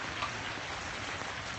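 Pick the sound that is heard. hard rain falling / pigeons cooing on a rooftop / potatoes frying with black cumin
hard rain falling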